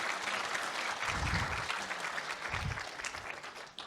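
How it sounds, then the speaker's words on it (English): An audience at a software UX talk breaks into a short burst of applause, many hands clapping close together and fairly loud for a few seconds. "Round of applause for Cactus Image Viewer"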